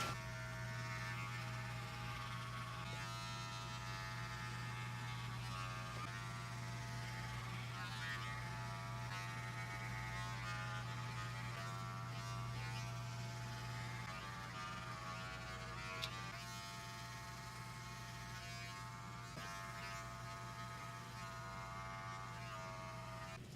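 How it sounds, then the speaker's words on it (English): A cordless Wahl Magic Clip hair clipper with its lever back, cutting a fade, gives off a steady, continuous electric buzz with a strong low hum throughout and no talking. "I'm going to take my cordless magic clip with my lever back and begin to fade out"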